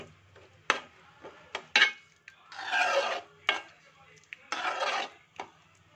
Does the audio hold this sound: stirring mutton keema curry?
yes